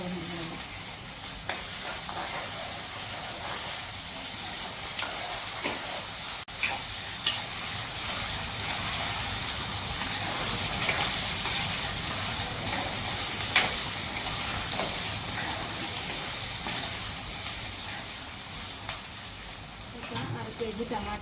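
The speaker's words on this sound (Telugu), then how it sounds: "కొద్దిగా అల్లం చిన్నులపాయ పేస్ట్ వేయాలి. పచ్చి వాసన పోయిన వరకు బాగా ఫ్రై అవ్వాలి." Green chilies, onions and ginger-garlic paste frying in a pan for tomato rice, a continuous soft sizzle with scraping stirs and occasional utensil clinks, close and fairly quiet.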